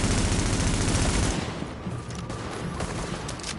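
Rapid automatic G36 rifle fire in the video game The Division, a dense loud burst for over a second, then scattered fainter shots and combat noise.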